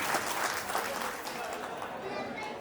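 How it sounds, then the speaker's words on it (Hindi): Applause from a crowd at a police line get-together reunion, a dense steady wash of clapping that fills the short stretch with no clear break. "एक बार जोरदार तालियां फिर से हो जाए।"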